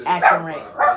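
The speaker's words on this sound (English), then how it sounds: "That's our dog." A pet dog barks a few times at home, loud and close, overlapping with people talking.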